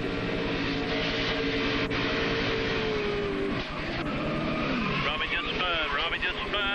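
A race car engine at the 2002 Daytona 500 roars continuously, its pitch swooping and wavering as the car spins out, with a high whine rising near the end.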